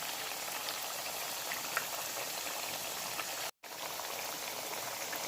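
Green plantain slices frying in hot oil, a dense continuous sizzle and crackle close up, with a brief cut to silence partway through and no talk.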